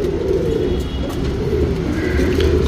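Cheeni breed pigeons coo steadily in a low, continuous murmur, with a faint hum running underneath and no voices.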